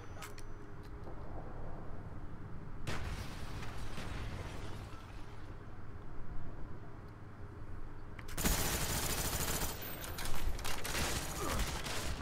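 Gunfire in a first-person shooter video game comes in heavy, dense bursts, loud and close, with quieter stretches of game noise in between.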